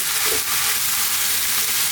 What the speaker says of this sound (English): we're going to just kind of cook this for a bit, like another sort of 3 or 4 minutes, stirring all the time